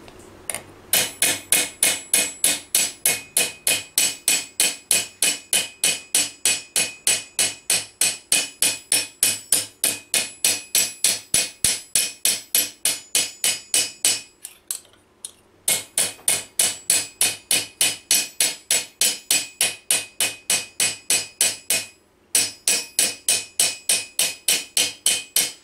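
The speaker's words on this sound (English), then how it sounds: "just draw it back now, rub it out with the face of the hammer." Steady metallic hammer blows ring on armour steel over a stake in a fast, even rhythm while creasing medieval armour, pausing briefly twice, with no talking.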